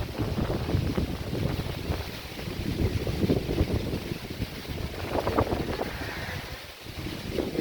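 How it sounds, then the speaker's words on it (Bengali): Strong storm wind gusts across a rooftop garden at night during a sudden nor'wester, a loud, continuous roaring rush that swells and buffets the microphone, with no voices. "কি বাতাস!"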